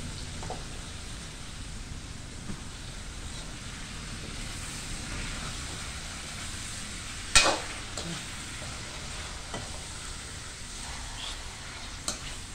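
Pork hock browning with onions in hot oil, a steady broadband sizzle running throughout with one brief sharper clatter partway through, no talking.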